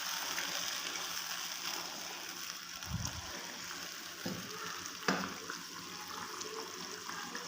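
Chicken karahi with cumin and turmeric sizzles and bubbles steadily in a pan, soft and close, with a few stirring scrapes and clinks of a spoon.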